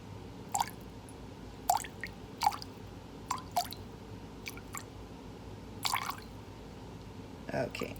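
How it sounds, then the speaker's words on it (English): Hand sanitizer liquid dripping from a container into a vessel, a series of small wet drips and splashes spaced irregularly over a steady low background hum. "this is dripping"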